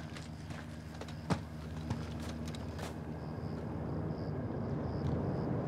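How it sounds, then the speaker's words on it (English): In the Call of Duty Modern Warfare 2 game, a helicopter approaches with a low, steady rotor drone that slowly builds under sharp clicks and thuds of gameplay action. "Got a heli incoming."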